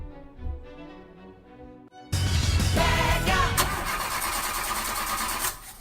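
A car engine cranks and fires into a loud, steady idle after a quieter lead-in, the running engine continuing close and strong to the end.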